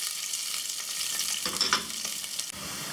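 Onions and green chilies sizzle and fry in hot ghee with cumin seeds, giving a bright, continuous crackling hiss stirred now and then, close by with no voices.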